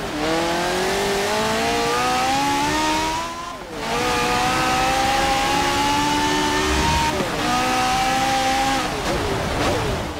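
A race car engine screams at high revs in rain in Forza Motorsport 7, loud sustained whine rising through gears with brief dips at shifts, under wet road noise.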